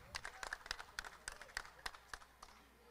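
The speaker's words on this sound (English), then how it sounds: "Earning applause from the small but potent ISKL fan contingent." Brief scattered clapping from a small group of ISKL school supporters courtside at a boys' singles tennis match, a dozen or so sharp irregular claps spread over about three seconds, fairly quiet and distant.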